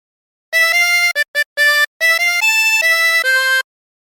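Sea shanty melody "Wellerman" on a diatonic harmonica without bends, clear sustained reedy notes in a phrase with short breaks between them, played solo and close with no talking.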